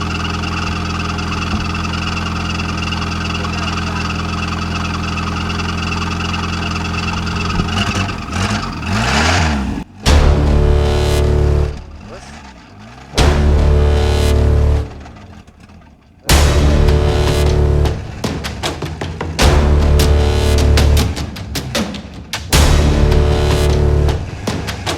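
An old Ford Fiesta, first started in 17 years, runs in four-wheel low, its loud engine idling steadily and then surging through repeated revs, with sharp bursts and brief drops between them.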